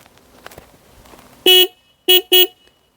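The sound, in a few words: horn of Hero Karizma XMR 210 motorcycle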